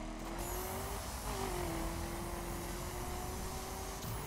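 An off-road car racing in The Crew video game, a continuous droning engine note with a sustained tonal whine and faint tire noise, steady and fairly quiet throughout.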